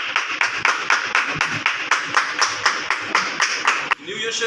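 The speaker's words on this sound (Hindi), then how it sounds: "आप सबकी भरपूर तालियों में" An audience at a church anniversary gathering claps during an award presentation, a steady even beat of claps for about four seconds before stopping abruptly.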